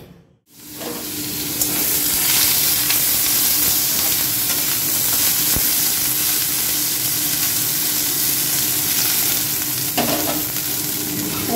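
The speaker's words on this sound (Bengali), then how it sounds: "পেঁয়াজটা ভেজে নিয়েছি, নিয়ে এর মধ্যেই ভাজা পটলটা দিয়ে দিলাম" Pointed gourd (potol) and onion fry in a pan with a loud, steady sizzle that starts abruptly as the pieces go in, then holds dense and continuous with faint stirring scrapes.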